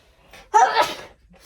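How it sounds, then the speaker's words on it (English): A single close sneeze, a sharp breathy burst with a brief inhale before it, then quiet. "I'm still gonna sneeze."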